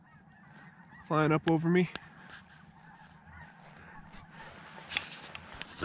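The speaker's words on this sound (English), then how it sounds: "there's just a ton of snow geese" Snow geese honk in a brief loud burst of overlapping calls from flying birds overhead, then fade into a steady wash of distant flock noise over a cold river setting, with someone speaking briefly.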